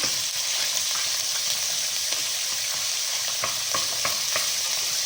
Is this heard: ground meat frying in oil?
yes